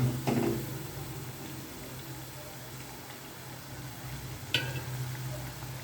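Cauliflower chilli pieces frying in hot oil give a steady, even sizzle with a low background hum, a couple of brief clinks near the start and just before the end, and no talk.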